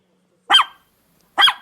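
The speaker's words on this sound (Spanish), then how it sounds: "mejor hablamos de este perrito" A small dog gives two sharp, loud barks spaced about a second apart, each short and close, with silence between them.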